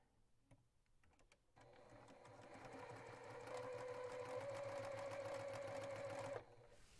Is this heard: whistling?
no